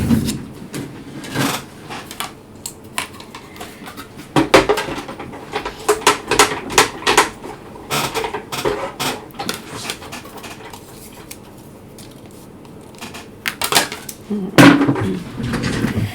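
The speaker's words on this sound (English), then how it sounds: "I'm still using my manual die cutting machine" A manual die cutting machine cutting paper, heard as a string of sharp close clacks and cranking rattles in uneven bursts, with quiet gaps between them and no talk.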